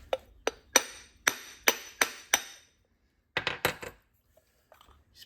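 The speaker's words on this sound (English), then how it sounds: "Tap with a hammer." A hammer taps a metal stud against a hard-water-crusted showerhead: seven sharp, clinking hits in a steady rhythm, a short silence, then a quicker cluster of three or four taps and a few faint knocks.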